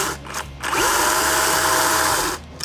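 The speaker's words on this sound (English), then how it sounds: "Many of these students are clearly brand new to the art of sawing ice." Chainsaw cutting through a block of ice during an ice sculpture class, its loud, steady buzzing whine sustained for about two seconds with a brief revving dip before it, no talking.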